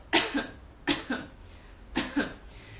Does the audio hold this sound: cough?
yes